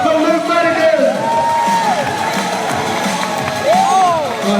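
Crowd at a BMX and free-running competition cheers and whoops loudly for a free runner, with shouts and whistles rising and falling throughout, voices overlapping continuously.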